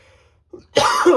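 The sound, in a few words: cough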